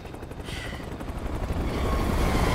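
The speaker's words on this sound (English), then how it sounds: "Did I get drive-by'd by a helicopter?" Helicopter in the video game Resident Evil 6 sweeping in, a loud continuous rotor roar that swells and builds steadily to the end.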